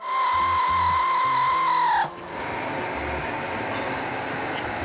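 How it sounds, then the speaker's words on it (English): A power tool tightens a compression clamp on a Ford F-150 Raptor exhaust pipe, whining loudly and steadily for about two seconds before cutting off and leaving a quieter workshop hum. "We're going to snug this clamp up."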